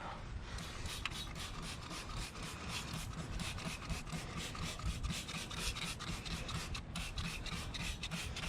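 Steady scrubbing and rubbing on the wheel rims of a 2019 Dodge Charger Hellcat while cleaning off brake dust, a continuous close rasping texture with no talk.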